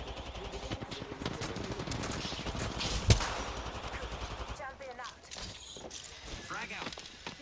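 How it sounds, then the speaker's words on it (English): Rapid automatic gunfire from an Apex Legends firefight, sustained bursts crackling close and loud, with one sharp louder shot midway and the shooting thinning out near the end as a voice talks over it. "The enemies are shooting at me."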